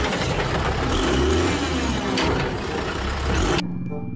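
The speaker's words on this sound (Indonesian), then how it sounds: "yang ini ada truk sampah teman-teman." Garbage truck on a street, a loud engine roar and rumble that revs and holds steady before cutting off abruptly.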